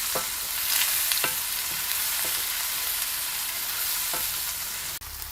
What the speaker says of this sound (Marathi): चांगलाच आपल्याला आहे ना परतून द्यायचं मसाला